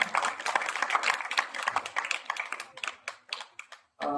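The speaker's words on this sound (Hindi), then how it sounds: "कृष्णा जी के लिए जोरदार तालियां" An audience at an International Women's Day event in India gives loud applause to honour a woman, with dense clapping that thins into scattered claps and stops abruptly.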